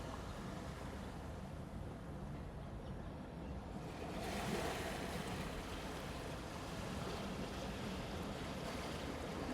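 Moving water washes steadily like surf or waves, a dense continuous rush with wind-like hiss that swells slightly after a few seconds and stays even to the end, with no voices.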